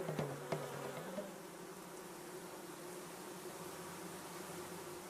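Honeybees buzz continuously around a hive, a soft, steady droning hum with a couple of brief knocks at the start.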